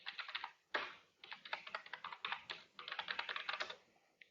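Rapid clicking keystrokes on a computer keyboard, quiet and close, in irregular bursts with a short pause near the start and a tapering finish.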